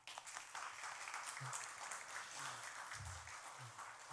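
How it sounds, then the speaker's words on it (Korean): A church congregation applauds to welcome missionaries, a continuous room-filling patter of many hands clapping at a steady level for several seconds, with a few low murmurs underneath. "환영하게 박수 한번"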